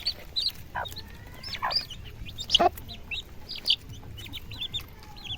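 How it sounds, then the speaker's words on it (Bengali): Backyard Aseel and desi chickens cluck in short, scattered bursts while pecking at kneaded flour feed, close and moderately loud over a soft rustling background, with no talking. "তো চলো দেখানো যাক যে মুরগিগুলো কীভাবে এটা খায়।"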